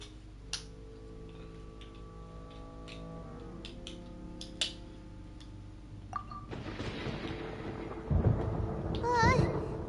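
Thunderstorm in the video game Genshin Impact: after quiet ticking and sustained game tones, a deep rolling thunder rumble swells in the last few seconds and builds louder toward the end.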